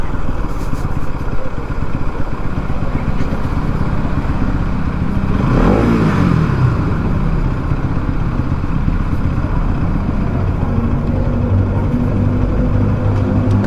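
Bajaj Pulsar NS200 motorcycle held stationary on a highway while its engine is revved, a steady loud engine roar filling the whole stretch with a brief swelling rise around the middle, no talking.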